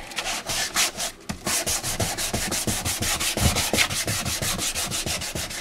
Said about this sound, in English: I can just basically sand the whole thing down and that'll be ready for paint.